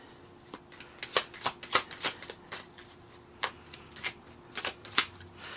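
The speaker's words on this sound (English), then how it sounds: "This deck is kind of weird to shuffle." Tarot cards are shuffled in a quick series of crisp riffling snaps and flicks, close and fairly soft, with short pauses between bursts.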